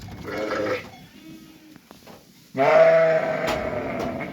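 Sheep with lambs bleat close by in the evening, one shaky call followed after a pause by a longer, louder bleat.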